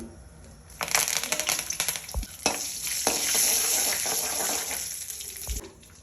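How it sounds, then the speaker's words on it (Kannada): Curry leaves crackle and sizzle in hot oil tempering for a sprouted horse gram stir-fry: a loud, steady frying hiss that bursts in near the start, with a few sharp pops and stirring scrapes, then cuts off abruptly near the end. "ಈಗ ಒಗ್ಗರಣೆಗೆ ಎಣ್ಣೆ ಹಾಕ್ಕೊಳ್ತಾ ಇದ್ದೀನಿ ಹಾಕ್ತಾ ಇದ್ದೀನಿ ಮೇಲೆ ಕರಿಬೇವು ಹಾಕ್ತಾ ಇದ್ದೀನಿ"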